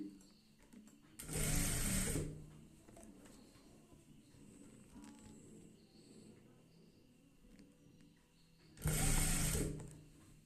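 A sewing machine stitches fabric in two loud, steady bursts of a couple of seconds each, separated by quieter stretches of a voice explaining between runs.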